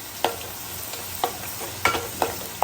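Fish curry paste sizzles and fries in a pan while a spoon stirs it, giving five or six crisp scraping strokes at an uneven pace over a quiet, steady sizzle, close and fairly soft.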